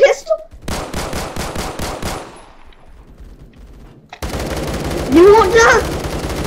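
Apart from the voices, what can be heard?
machine gun fire in a video game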